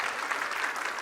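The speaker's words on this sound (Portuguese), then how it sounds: "forte aplauso bíblico a Jesus" Congregation applauding during a church service; a brief, dense burst of many hands clapping together, steady and even throughout.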